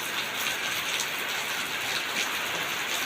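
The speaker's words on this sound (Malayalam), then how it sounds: "മഴ പെയ്തുകൊണ്ടിരിക്കുകയാണ്" Heavy rain pours down in a dense, even hiss that stays loud and unbroken from start to finish, with no voices.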